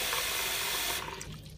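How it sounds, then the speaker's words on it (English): Water pours over raw almonds in a bowl to soak them for homemade almond milk, a steady close rushing splash that thins out and quiets near the end. "I'm just going to cover those with water"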